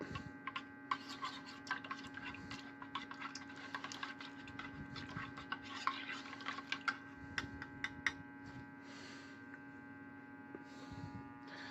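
A spoon stirs old 1977 C ration instant coffee, type 1, making faint, scattered clinks and ticks over a steady electrical hum, with no talking.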